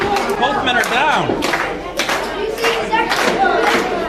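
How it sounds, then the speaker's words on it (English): A wrestling crowd at a live show claps and cheers, with rhythmic clapping and a loud crowd din under a commentator who talks over the noise throughout. "The crowd getting behind Shawn Blaze as he makes it to his feet."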